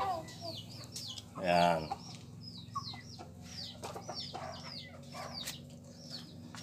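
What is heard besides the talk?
pet chickens clucking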